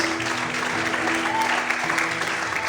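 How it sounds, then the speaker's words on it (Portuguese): A congregation at an evening Portuguese-language church service applauding, a loud and dense continuous clapping that holds steady from start to end, with a faint sustained tone underneath and no speech on top. "Quantos podem aplaudir o Senhor e adorar a Deus nessa noite?"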